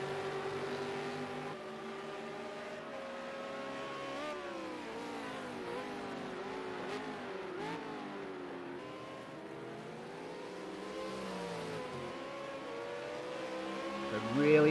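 V8 Supercars race at Ruapuna, one engine holding a sustained high drone that rises and falls through gear changes, steady and fairly close, ending in a louder surge.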